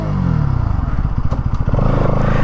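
A 2024 Bajaj Pulsar NS200 with a liquid-cooled 199.5cc engine revs up close by, its harsh exhaust note climbing and pulsing over a steady idle rumble, with no talk over it.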